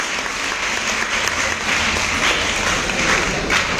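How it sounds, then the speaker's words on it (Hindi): A seminar audience bursts into loud, sustained applause, dense overlapping claps filling the hall evenly from start to finish without letting up. "एक बार जोरदार ताली हो जाए इनके लिए।"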